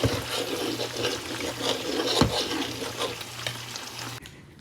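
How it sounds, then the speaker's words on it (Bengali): Potatoes and beans sizzle in a pan with scraping stir strokes, a steady low hum underneath and a sharp clack midway. "এখানে আলু আর শিম ভাজা করে নিচ্ছি"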